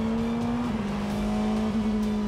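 A Porsche 919 Hybrid race car drives on, its engine holding a steady, loud tone close by with two brief dips in pitch, like gear changes, over a rough background rumble.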